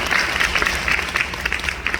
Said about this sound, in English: that deserves a little bit of applause by itself.